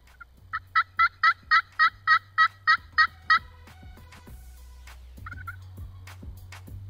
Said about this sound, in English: As soon as Chris started hitting the call, the gobblers were taking the bait